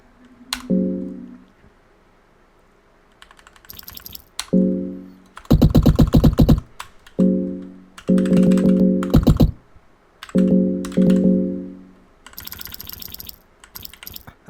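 A computer keyboard is typed on during a session of Fear and Hunger, with clusters of rapid clattering keystrokes separated by short pauses and tonal game sounds in between.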